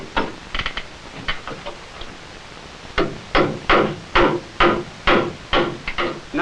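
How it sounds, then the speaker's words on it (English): A hammer toe-nailing wooden ceiling joists into a beam, with sharp, close strikes, a few scattered blows followed by a steady run of about a dozen evenly spaced hits. "Now it's also necessary to toe nail the joist into the beam on both sides."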